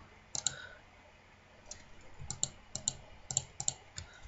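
Rapid, light mouse clicks from a PC Minecraft session come in irregular bursts and clusters, close and fairly quiet, with brief gaps between flurries.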